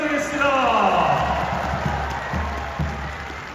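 Football stadium crowd applauding after a relegation playoff match, a broad roar of clapping and cheers under a loud public-address voice, swelling early then thinning out.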